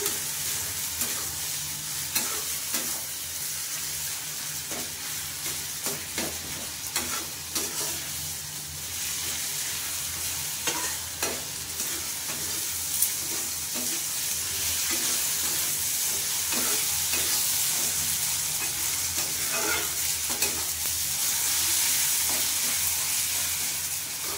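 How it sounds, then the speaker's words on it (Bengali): Lote fish, also called Bombay duck, sautéing with spices in a pan: a continuous close sizzle with repeated scraping stirs, steady and fairly loud throughout, with no talking. "দিয়ে এটা ভালো করে কষিয়ে নিতে হবে, যাতে গন্ধটা না থাকে, কাঁচা গন্ধটা"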